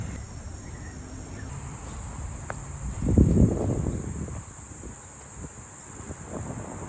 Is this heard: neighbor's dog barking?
no